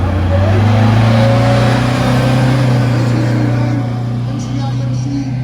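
A vintage bus engine drones loudly with a deep rumble at a heritage bus festival, its pitch holding steady and then easing as the bus pulls away.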